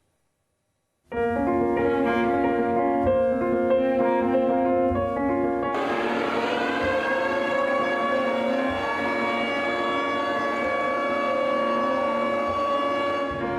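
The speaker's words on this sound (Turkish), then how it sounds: "Saat 9'u 5 geçe çalan sirenler eşliğinde hayat bir dakikalığına durdu." A loud, sustained civil defense siren wails steadily after a second of silence during a minute of silence for Atatürk at 9:05, its pitch swelling upward partway through and holding a long, droning tone.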